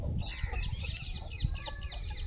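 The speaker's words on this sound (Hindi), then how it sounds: "आप हमारा मुर्गे देख सकते हो कितने बेस्ट क्वालिटी के मुर्गे हैं," Desi chickens and roosters on a free-range poultry farm, several birds clucking and squawking near and far in quick overlapping calls over low rumbling background noise.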